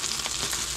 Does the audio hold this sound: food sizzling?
yes